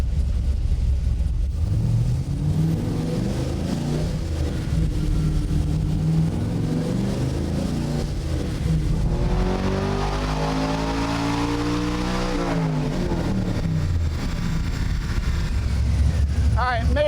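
A stroked LS V8 in a Chevy C1500 race truck revs hard on a dyno, its loud engine note climbing and falling in pitch, with voices faintly underneath.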